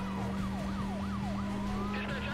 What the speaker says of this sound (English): I still hear those sirens.